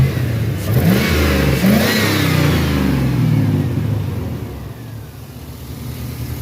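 A 5.3 V8 truck engine with ported heads and a straight-pipe exhaust, missing a couple of exhaust bolts, revs up loudly and close, with a deep rumbling rise and fall that settles back toward idle.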